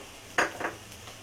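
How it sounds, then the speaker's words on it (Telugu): A spoon stirring curd into masala in a pan for mushroom biryani, two quick scraping clinks of utensil against cookware, close and fairly clear over a quiet background. "1 స్పూన్ పెరుగు వేసి కలుపుకోవాలి"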